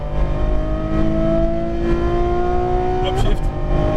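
A Ferrari F12 Berlinetta V12 engine revs and accelerates on a racetrack, pitch climbing steadily, then a quick upshift with a brief dip before it pulls again, loud and close.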